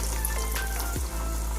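Parippu vada, Kerala-style dal fritters, frying in well-heated oil: a steady, close sizzle and bubbling that runs throughout, with a few brief pops and spits as the batter hits the oil.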